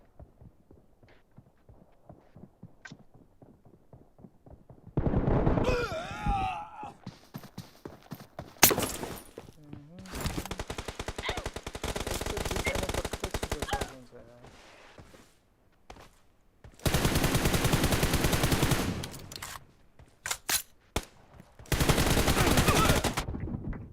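PUBG Mobile gunfire erupts in loud rapid bursts and single shots, separated by quieter stretches of faint footsteps and game noise; no clear talking.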